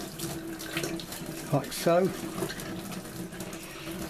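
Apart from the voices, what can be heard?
tap water trickling along foam glider wing join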